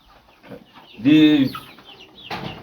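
Chickens on a Rwandan poultry farm cluck in a short, loud burst after a quieter stretch of scattered fowl sounds.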